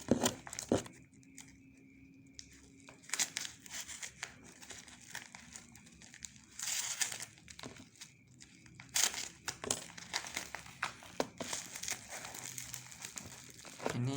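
Parcel packaging around a book being torn and slit open with a cutter, giving irregular crinkling and crumpling bursts of plastic or paper, fairly close, with brief sharper tearing moments and no talk.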